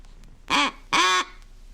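Two nasal quacks from a mallard duck call, the second note shaped by fingers cracked slightly open over the end, close and clear, the second note longer than the first, with no talking.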